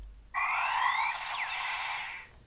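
Kamen Rider Drive DX Shift High Speed toy shift car plays an electronic sound effect, a bright sustained synthetic burst lasting about two seconds with a sweeping tone, loud and alone.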